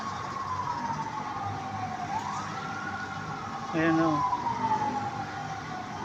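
A wailing fire truck siren rises and falls in the distance, heading toward a large fire, with steady background noise and a voice speaking briefly over it.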